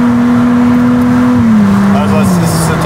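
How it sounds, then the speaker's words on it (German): Ferrari engine droning steadily from inside the cabin as the car cruises, then the tone drops smoothly as it upshifts into eighth gear, loud and close, with no speech during the shift. "wenn ich jetzt mal so hochschalte, fahren wir jetzt im achten Gang"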